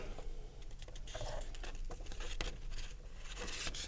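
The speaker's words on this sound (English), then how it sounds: "when we're cutting paper" Scissors snip through paper up close, a run of crisp, irregular cuts with rustling and crinkling between strokes.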